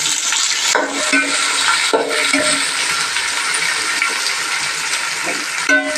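Sliced onions and green chillies fry loudly in oil for jackfruit biryani, a bright close sizzle with a few spatula scrapes and clinks against the pot, steady throughout with no talk.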